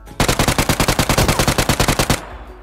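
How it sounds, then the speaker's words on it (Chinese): Automatic gunfire in the mobile battle royale game PUBG Mobile (Peacekeeper Elite): a loud, rapid, evenly spaced burst of about twenty shots lasting two seconds, then a sudden stop. "那把小手枪也想打我吗，兄弟？"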